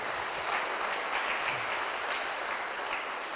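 A church congregation at a praise and worship gathering in Dharwad claps together, a dense, even wash of many hands heard from a distance, continuous and fairly soft in level.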